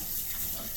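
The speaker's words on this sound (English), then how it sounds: "I will wash my hands in between" A kitchen tap runs steadily while hands are washed between steps of making frozen peanut butter and chocolate treats, a close, continuous wash of water with no talk.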